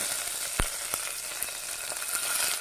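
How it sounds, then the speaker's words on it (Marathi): Steady hiss of stuffed eggplants frying in hot tempering oil in a pressure cooker, with a few sharp clicks of a spoon stirring. "ही वांगी आपण फोडणीत टाकून घेतलीत"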